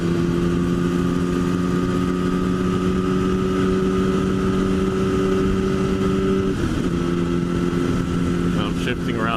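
A motorcycle engine drones loudly and steadily as the rider cruises, with a gear shift causing a brief change in pitch partway through and a rev change near the end; no talk is heard over it.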